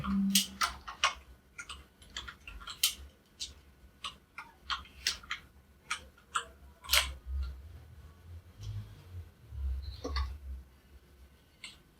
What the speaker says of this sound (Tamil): இப்போ ஒரு பேராகிராஃப் டைப் பண்ணிக்குவோம்.